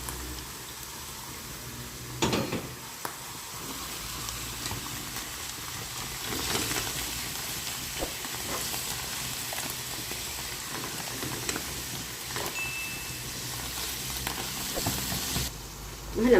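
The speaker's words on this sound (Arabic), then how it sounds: "بعد ما قلينا الفطر مع البصلة، نحط اللحمة" Minced meat sizzles in a pan alongside already-fried mushrooms and onion, a steady close frying hiss with occasional scraping stir knocks and clatters, no talking.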